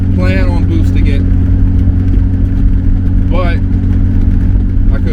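A 2.5-litre BMW E36 convertible with an M52 intake manifold hums steadily at idle or cruise, a constant low droning engine tone beneath someone talking throughout.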